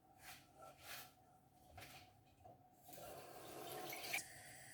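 Water runs into a saucepan holding red split lentils: faint, intermittent splashes and trickles at first, then a steadier filling rush for the last couple of seconds.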